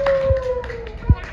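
A group claps hands during a children's warm-up exercise class, with a couple of short, sharp claps standing out under an instructor's voice.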